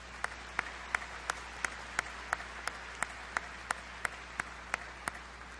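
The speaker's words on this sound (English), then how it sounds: "Let's give them a warm applause." Applause for graduates at a Northeastern University commencement: a spread-out crowd claps steadily, with evenly spaced sharp claps standing out above a soft wash of distant clapping, no speech.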